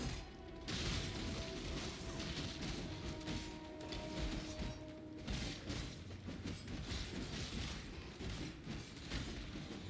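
Crackling lightning explosions in the action game Path of Exile, a dense, continuous barrage of bursts and rumbling impacts lasting throughout, loud and busy with no pauses.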